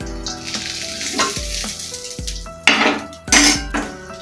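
Soybean and potato stuffed fritters fry in hot oil, a steady sizzle running throughout, with repeated clanks and scrapes of a metal spatula against the pan as the pieces are turned, plus a couple of louder bursts of crackling.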